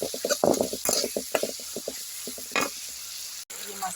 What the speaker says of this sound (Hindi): ये मसाला अच्छी तरह से फ्राई हो गई है और तेल छोड़ने लगी।